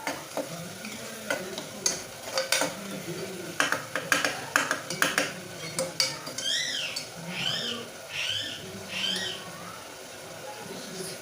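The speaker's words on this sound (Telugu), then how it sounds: "కొంచెం బాగా కలుపుతానండి ఫ్రై అయ్యేలాగా" A spoon stirs masala powder frying in a pot for biryani, with irregular scrapes and metallic clinks over a low sizzle, and faint bird chirps in the background.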